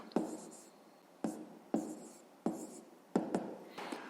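Pen or pencil writing by hand on paper while working a fifth-grade fraction subtraction problem: six or seven short scratchy strokes in separate bursts, close and fairly quiet, with no talking.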